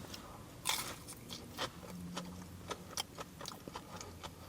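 Crispy battered sausage from a fish and chip shop is bitten and chewed close to the mouth: a sharp crunch of the first bite followed by a string of soft, irregular chewing crunches and squishes, quiet and without talk.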